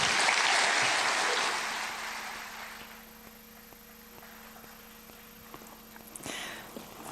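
Applause from a conference audience at the Africa CEO Forum opening ceremony swells loudly at the start, then thins and fades to scattered clapping and room hum.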